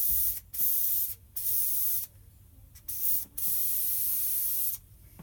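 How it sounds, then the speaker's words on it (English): An airbrush sprays paint onto a backer board in short, close bursts of hissing air, several separate blasts of varying length broken by quiet gaps. "I'm going to take my airbrush and connect it on up"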